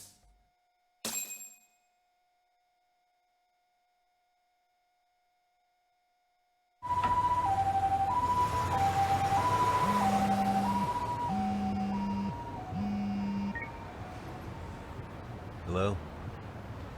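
Ambulance siren in the video game Lost Judgment, a loud alternating two-tone wail that starts abruptly after a short beep and silence, repeating steadily over a low rumble and then tapering slightly toward the end.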